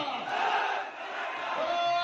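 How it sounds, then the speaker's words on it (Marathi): A large crowd at a Maratha reservation rally roaring, shouting and applauding together, loud and sustained, with cheering voices blending into a continuous wash of noise. "पुन्हा एकदा जोरदार टाळ्यांचा कडकडाट झाला पाहिजे"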